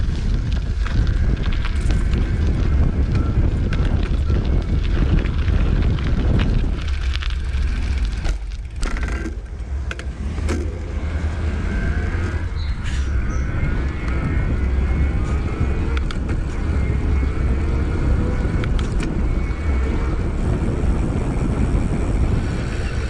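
Ride1Up Prodigy XR e-bike rolling over gravel, heard as a continuous close rumble and crunch with steady wind buffeting, with a brief dip in the noise partway through.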